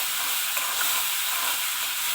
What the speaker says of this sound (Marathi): कांदा छान आपल्याला भाजून घ्यायचा आहे, कारण आपण कच्च्याच कांद्याची पेस्ट बनवलेली आहे.